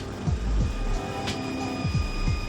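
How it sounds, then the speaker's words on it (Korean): A military helicopter roars over an army special forces tactical training ground during a high-intensity exercise, giving a steady, loud, droning rumble with a continuous whine and periodic low thumps, with no voices. "헬기가 굉음을 울리고 있다."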